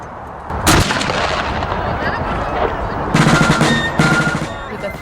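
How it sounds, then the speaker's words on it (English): Cannon and musket fire at Fort York, loud sharp blasts against a dense roar of crowd and outdoor noise, with a few rapid cracks near the end. "With the thrill of the booming of the cannons, the firing of the muskets"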